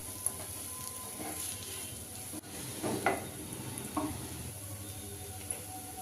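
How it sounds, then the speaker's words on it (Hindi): Quiet stirring and scraping of a spoon through a potato and semolina snack mixture in a bowl, with soft clinks and scuffs against faint background hiss. "यहाँ पे नमक डालकर अच्छे से नमक को मिला लेते हैं।"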